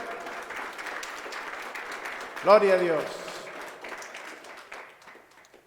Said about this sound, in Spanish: Denle un aplauso a Jesús fuerte